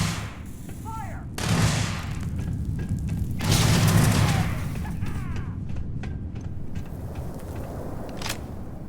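Gunfire in the Starfield video game, with booming shots and scattered cracks over a steady rumbling background, a few louder blasts standing out amid the continuous combat noise.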